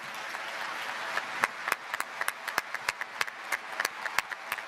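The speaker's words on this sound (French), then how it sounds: "vous pouvez les applaudir" Audience applause at a televised Sunday political interview, a faint, thin patter of scattered claps rising into sharper individual hand claps over a few seconds.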